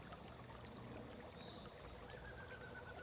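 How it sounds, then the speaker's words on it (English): Waterfall beside a cave, a steady, faint wash of falling water with an even, continuous roar and no other sounds. "And this loud waterfall."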